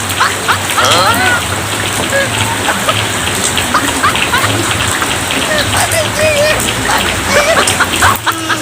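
Steady rain patters and splashes on a surface throughout, with drops spattering close by and a low hum underneath, while faint voices come and go in the background.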